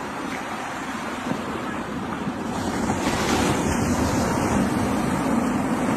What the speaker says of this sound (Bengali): ঢেউটা কিভাবে আসে, আছড়ে পড়ে